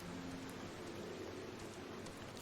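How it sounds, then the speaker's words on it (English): Rain falls in Drybone in a video game, a soft, steady hiss of drops that stays faint and even throughout, with no voices. "Oh, it's raining in Drybone."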